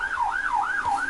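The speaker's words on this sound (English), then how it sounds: "There was a police car, and there's sirens going off everywhere." Wailing police siren from a news report on a nighttime terrorist attack in London, rising and falling in a steady, smooth cycle about every half second, loud and continuous with no talk over it.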